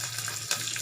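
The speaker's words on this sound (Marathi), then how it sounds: "सगळं भाजून घ्यायचं." Chili and curry leaves fry in hot oil for a tempering, giving a brief, steady, fairly quiet sizzle with a slight crackle, close by and with no talking.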